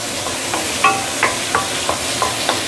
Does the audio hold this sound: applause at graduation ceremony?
no